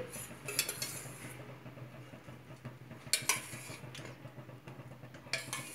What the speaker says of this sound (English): So I've added here 4 to 5 spoons of oil.